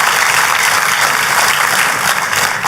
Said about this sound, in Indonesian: Kalau mau tepuk tangan yang paling meriah saudara.